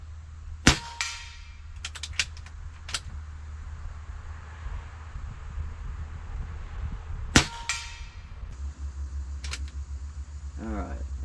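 A Walther MaximaThor air pistol from Umarex fires several sharp, close pops: a quick shot, a tight cluster of three, another shot, then two more spaced apart, with quiet gaps between them.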